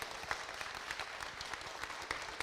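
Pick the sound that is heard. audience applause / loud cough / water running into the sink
audience applause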